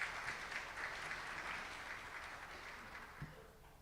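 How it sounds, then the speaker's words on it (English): Audience applause welcoming the Riverside College president to the stage, moderate clapping that slowly fades with a single thump near the end. "Please join me in giving her a hand."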